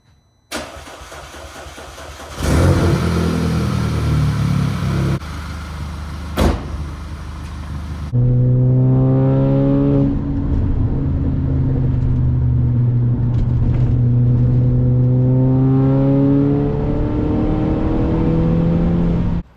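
An Audi A5 with a newly replaced high-pressure fuel pump, primed beforehand, cranks and catches, then settles into a loud, steady close-up idle for the remaining seconds.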